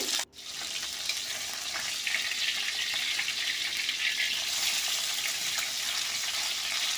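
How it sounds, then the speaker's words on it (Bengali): Pieces of fish frying in oil, a continuous close sizzle and crackle after a brief knock at the start, growing slightly louder and busier, with no talking. "এইভাবে অল্প অল্প করে মাছগুলো ভেজে নেব"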